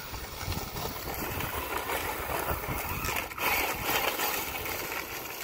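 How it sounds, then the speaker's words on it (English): A Mojave 8S Lite RC boat runs at quarter throttle, giving a steady, whining motor drone mixed with water hiss that holds level throughout, swelling slightly near the end. "guys, that's about a quarter throttle here."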